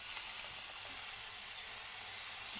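Banana flower and potatoes sizzle quietly in hot oil and spiced gravy in a pan, a soft continuous hiss with faint stirring rustles, close and without talk.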